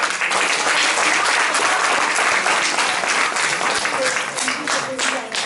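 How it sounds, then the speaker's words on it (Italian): Loud, dense applause from a large audience at a traditional Christmas carol concert, greeting a choir; sustained clapping that fills the whole stretch without pause. "Maria Diana, Coro Città di Formia, Coralia, a cui va un applauso"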